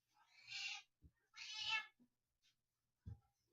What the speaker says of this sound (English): I wonder how much you can hear the cat.